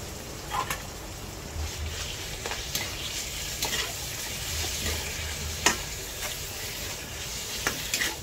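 Ground pork browning in a pan, a steady close sizzle broken by periodic spatula clicks and scrapes, with a faint low rumble underneath.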